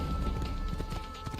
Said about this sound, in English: Horse, get over here.